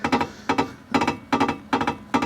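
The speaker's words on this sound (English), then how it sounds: "All of the noise you can hear is just the handbrake" A campervan's handbrake creaks as the van shifts on a jack, producing a steady series of close, rhythmic double-clicking creaks repeating roughly every half second.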